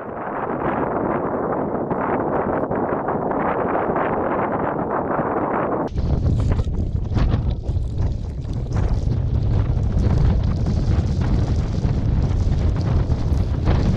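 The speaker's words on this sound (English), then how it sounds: "It is a bit blowy at times." Steady wind roars into the microphone throughout, growing heavier and gustier halfway through with deep low buffeting, no voices, on a Scottish mountain in Glen Clova in spring.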